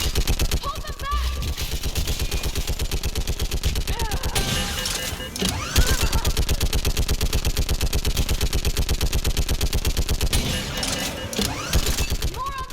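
Sustained automatic gunfire in a Mass Effect 3 battle, rapid regular bursts of shots nearly continuous and loud, with brief louder blasts and shouting voices mixed in.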